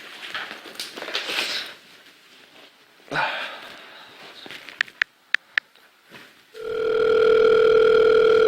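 Telephone ringing for an incoming call, a steady electronic ring tone that starts loud and sustained after a few sharp taps and earlier background voices and movement.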